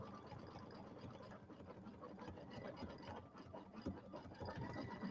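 Kimberbell embroidery machine stitching out a table topper design, a steady fast mechanical whirring and rattling hum that runs continuously at moderate volume.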